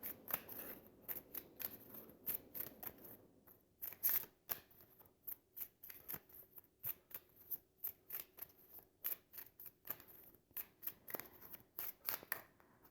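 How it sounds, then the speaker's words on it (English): Tarot cards riffle and snap in quick bursts, a long run of crisp papery clicks with brief pauses, close by and fairly quiet, with no talking. "I'm going to shuffle these cards."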